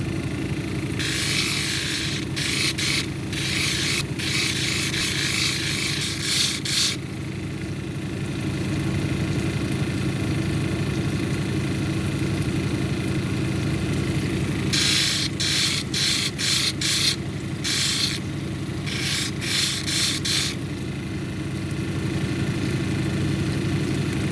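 A silver lace onyx cabochon is ground on a 280 grit wheel: a steady motor drone runs throughout, with bursts of bright rasping as the stone meets the abrasive, coming in two separate clusters.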